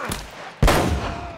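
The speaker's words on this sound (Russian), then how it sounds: "Пулемет ручной у кого-то по звуку был." Light machine gun fire in the game Uncharted: Drake's Fortune, a soft shot followed by a sharp loud blast that decays into rumble, with no talk.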